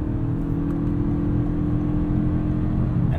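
A 2022 Toyota Camry Hybrid XSE's 2.5-liter four-cylinder engine accelerates, heard from inside the cabin as a steady mid-pitched drone with a faint whir, even and moderately loud throughout, without talking.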